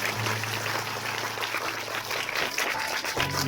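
Enthusiastic audience applause at a school event in a hall, with dense, sustained clapping from many hands filling the whole stretch, loud and steady.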